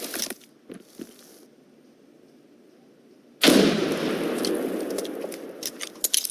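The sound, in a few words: grenade explosion in video game America's Army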